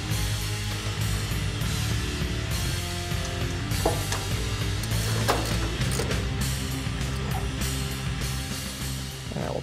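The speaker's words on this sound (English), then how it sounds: "And we'll tighten up this bolt." A ratchet tightens a bolt on a fuel line bracket of a 1965-1966 Mustang, giving close, steady, rapid clicking that keeps on in a continuous run without talk.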